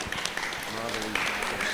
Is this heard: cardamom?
no